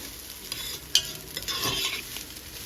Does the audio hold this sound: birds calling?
no